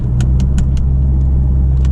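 A Porsche 997 Turbo convertible on the road gives a steady, loud low engine drone through a downshift, with a series of short clicks or taps evenly spaced on top and no speech.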